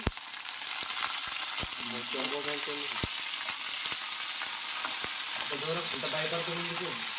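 Chicken fries in oil in a pan with onion, green chilies and cauliflower. A steady crackling sizzle runs throughout, broken by sharp clicks and taps, and brief faint voices are heard underneath.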